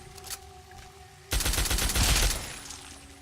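Gunfire in the video game Fallout 3 as an enemy is shot: after a quiet stretch, a loud, sudden burst of rapid shots lasts about two seconds.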